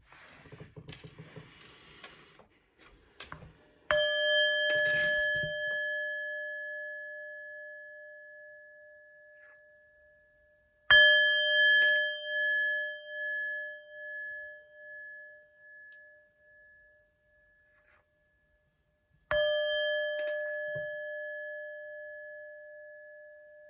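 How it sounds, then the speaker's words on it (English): A bright metallic chime struck three times, each strike ringing out with a long, slowly fading tone and pulsing decay, preceded by some faint rustling handling noise. "let's chime."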